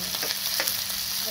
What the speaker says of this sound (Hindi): प्याज डाल दी मुझे, मैंने कट करके रखी है, और इनको अच्छे से आपको हल्का सा इनका मॉइस्चर कम कर